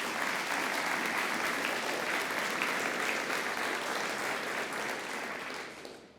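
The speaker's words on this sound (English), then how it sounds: "Let's give them a round of applause." Sustained applause from an audience at a fire academy graduation ceremony, dense and steady throughout before tapering off at the very end.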